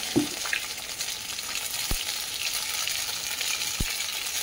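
Ginger paste with salt and turmeric fries in hot oil, giving a steady close sizzle with a few sharp spatter pops.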